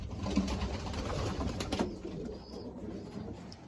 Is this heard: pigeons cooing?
yes